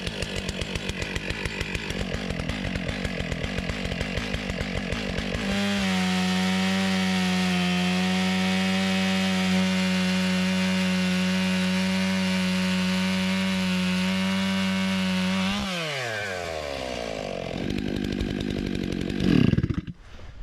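Chainsaw cutting freehand through a large hump on a timber log while milling posts and slabs on an off-grid property: a loud, close, steady engine roar under load for about ten seconds, with revving before and after and no talk.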